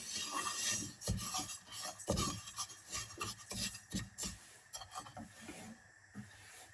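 Sesame seeds being stirred and toasted in a pan while making Moroccan chebakia (mkharka), giving a steady run of close, dry scraping and rustling strokes with no talking.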